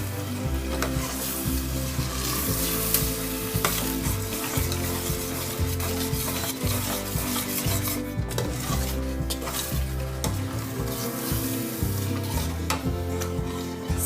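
Spinach paste for palak paneer being mixed in a hot pan: a loud, continuous sizzle with rhythmic scraping and stirring strokes throughout, close and busy, with occasional utensil knocks against the pan.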